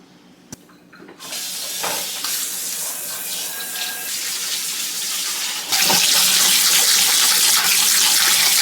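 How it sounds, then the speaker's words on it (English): Cooked lentils are strained and rinsed under a kitchen tap, with a hissing stream of running water that starts after a click and grows louder and fuller toward the end, close and steady with no talking. "right after we strain and rinse our lentils"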